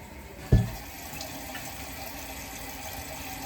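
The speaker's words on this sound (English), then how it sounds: "it's just running continuously and not filling up" Toilet tank water running continuously without filling, a steady rushing hiss that follows a single sharp knock near the start.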